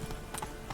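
Roach the horse's hooves clip-clopping in The Witcher 3 video game, a few quick hoof knocks over a steady low background hum in a brief snippet.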